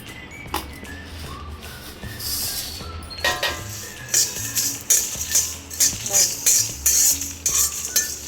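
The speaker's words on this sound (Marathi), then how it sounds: "बडीशोप, जिरं, राई आणि ही सुक्या मिरच्या, हे सगळं आपल्याला भाजून घ्यायचं आहे." Fennel, cumin, mustard seeds, fenugreek and dried red chillies dry-roast in a pan, stirred with a metal spoon in repeated scraping, clinking strokes over a faint crackle, close and moderately loud.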